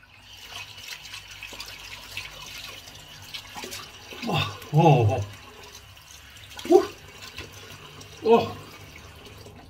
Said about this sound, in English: Put some cold water on the face and I'll help clear those pores up.